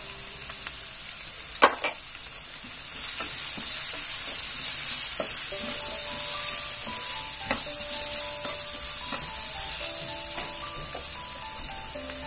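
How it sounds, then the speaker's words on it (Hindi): Vegetables sauté in hot oil for street-style veg chowmein, a steady loud sizzle throughout with occasional clanks and scraping of a spatula or ladle against the pan. "पकाना है चाइनीज में वेजिटेबल्स थोड़ी कच्ची कच्ची अच्छी लगती हैं एक मिनट तक इसको सॉटे करने तक"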